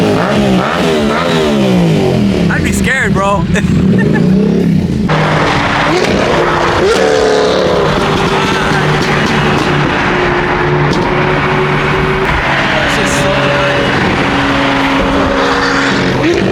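A loud Lamborghini V12 engine revs and roars close by, pitch climbing and falling, while someone speaks briefly over it.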